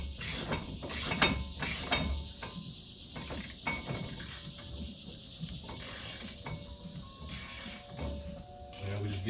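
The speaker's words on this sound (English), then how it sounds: "Let's get our ratchet wrench, or our ratchet period." A ratchet wrench clicks in short bursts while brake caliper bolts are snugged on a 2007–2018 Chevy Silverado 1500 with the 5.3L V8, the quick pawl ticking close up amid shop clatter.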